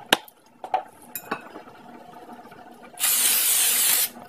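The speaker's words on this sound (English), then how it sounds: "We're going to go ahead and spray this with a non-stick cooking spray." A few light clinks and taps of a baking dish, then a single steady spray of non-stick cooking spray hisses for about a second, close by.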